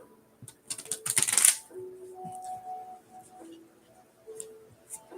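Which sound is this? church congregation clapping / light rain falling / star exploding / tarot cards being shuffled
tarot cards being shuffled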